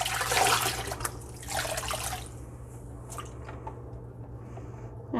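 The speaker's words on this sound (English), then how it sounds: "A little bit of agitating and a few dips back and forth between hot and cold water." Handspun singles yarn being fulled, agitated and dipped back and forth between hot and cold water, giving wet squishing and sloshing with drips, loudest at the start and tapering into quieter dribbles.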